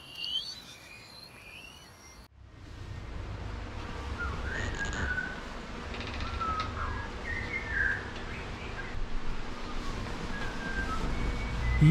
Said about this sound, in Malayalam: മനുഷ്യർ ചൂളം വിളിക്കുന്ന പോലെ ഈ ശബ്ദം പുറപ്പെടുവിക്കുന്നത് ചൂളക്കാക്കകളാണ്